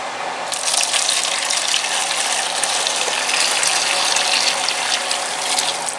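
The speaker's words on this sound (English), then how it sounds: "Let's just take our wondrous grape juice and strain it through here." Homemade wild grape juice pours and strains in a steady, loud gushing stream of liquid that runs continuously, with no voices.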